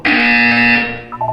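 A loud, harsh electronic buzzer from the video game Portal 2 sounds once, holds steady for nearly a second, then fades, followed by a couple of faint tones.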